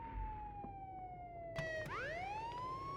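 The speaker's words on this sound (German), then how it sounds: "Ah, die Sirene auskommt." A police siren in the Contraband Police video game wails in long falling and rising sweeps, moderately loud and alone, with a short clank in the middle.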